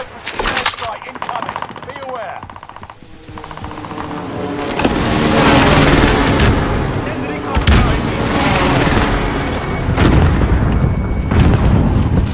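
Loud booming air strike explosions in a military shooter video game, heavy blasts building from about five seconds and repeating in waves, with rumbling gunfire-like bursts and people talking over the game sounds.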